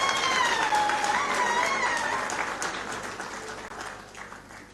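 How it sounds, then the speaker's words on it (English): Applause fills the room at a summit of heads of state, a sustained, even wash of many hands that gradually fades away, with a whistling tone heard early on. "Let's give them all a round of applause, a big round of applause."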